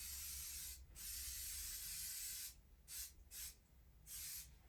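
Kiwi Suede & Nubuck waterproofer sprays from an aerosol can onto roller skates in several close hissing bursts, a long first spray followed by shorter ones separated by brief pauses, with no talking.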